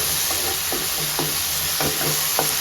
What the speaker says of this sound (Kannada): ಜಿಂಜರ್ ಗಾರ್ಲಿಕ್ ಪೇಸ್ಟ್ದು ಹಸಿ ವಾಸನೆ ಹೋಗಿ ಟೊಮ್ಯಾಟೊ ಇನ್ನೂ ಚೆನ್ನಾಗಿ ಸಾಫ್ಟ್ ಆಗೋವರೆಗೂ ಇದನ್ನ ಫ್ರೈ ಮಾಡ್ಕೊಳ್ಳೋಣ